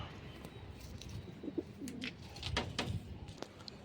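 Pigeons coo nearby in brief, low calls while young birds take flight from a rooftop loft, with light flutters and scattered soft noises over a quiet outdoor background.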